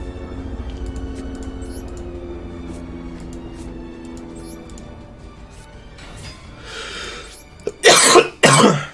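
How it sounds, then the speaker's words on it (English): Two loud, harsh coughs burst out close by near the end, after a stretch of low background rumble and faint scattered noises. "Still got a pretty bad cough."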